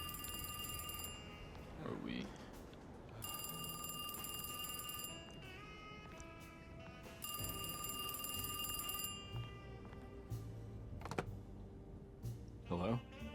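An old-style telephone bell rings in the video game Alone in the Dark, in repeated loud bursts with short gaps between them, while people talk over and between the rings.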